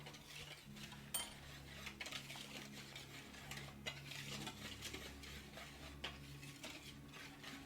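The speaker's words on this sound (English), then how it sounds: "Just going to give that a quick whisk" Dry bread dough ingredients are quickly whisked in a bowl, making faint, rapid scraping and light tapping strokes that run steadily throughout, with a few sharper clinks against the bowl.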